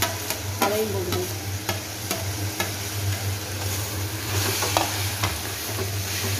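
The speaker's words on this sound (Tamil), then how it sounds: "போட்டு இந்த தக்காளி நல்லா மசிர வதக்கி நல்லா வதக்கணும்" Onions and tomatoes fry steadily in hot oil in a pan, giving a continuous close sizzle. Sharp clinks and scrapes of stirring come through it, with no speech.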